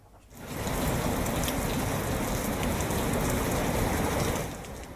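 Heavy monsoon rain in Gujarat pours down as a loud, dense roar that swells in quickly and holds steady before easing off at the end, with no voices.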